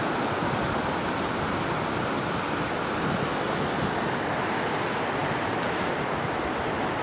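Continuous broadband roar of surf washing onto Betalbatim beach in South Goa, India, as the tide comes in at sunset, steady and full throughout with no voices.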